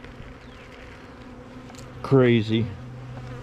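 Bees hum around kept hives in a steady low drone that continues throughout, and a person briefly speaks partway through.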